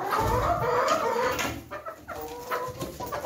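Hens cluck in a warm coop among a flock of about forty birds, soft overlapping clucks and murmurs close by over a steady low hum, with no talking.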